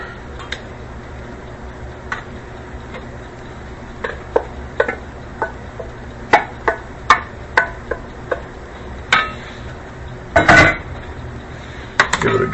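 A burrito filling is stirred in a metal pot, with irregular clinks and scrapes of the utensil against the sides, some sharper knocks standing out over a steady low kitchen background.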